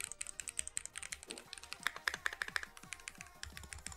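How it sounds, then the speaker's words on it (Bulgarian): Typing on a Keychron Q1 mechanical keyboard with brown switches, a quick, steady run of soft, close keystroke clicks and taps with no talk over them. "Наистина се чуват много тихо кафевите свичове."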